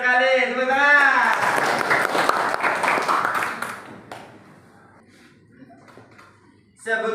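A voice speaks briefly in an Indonesian classroom, then a short burst of group clapping fills the room, fading into quiet shuffling before another voice begins.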